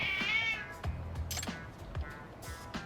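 A cat meows a few times in the video game Lost Judgment, short cries standing out over game music and ambient sound.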